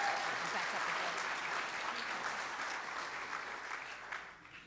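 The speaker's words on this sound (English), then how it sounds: "Let's give him another round of applause for that great presentation" Sustained applause from a Rotary club meeting crowd honoring a presenter, steady and dense throughout, tapering only slightly near the end.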